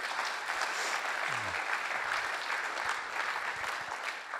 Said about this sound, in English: a round of applause for that as well